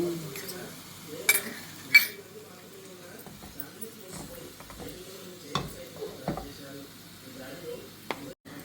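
Onion masala frying in oil in a pan for a fish stew, with a soft continuous sizzle, a few stirring scrapes and clinks of utensil against the pot, heard up close under occasional quiet talk.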